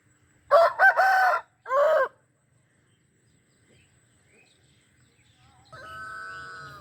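A rooster crows twice, loud and close, among free-ranging hens foraging for insects near water; a quieter, longer call follows after a near-silent gap.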